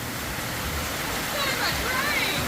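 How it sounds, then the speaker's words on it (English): Heavy rain during Cyclone Jasper pours as a dense, continuous roar of water, loud and steady throughout, with no clear pauses or gusts standing out. "Jesus, it's a lot of rain."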